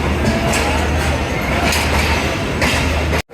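The Karachi Express passenger train rumbles and clatters loudly and continuously from close range, with rhythmic surges, before cutting off abruptly.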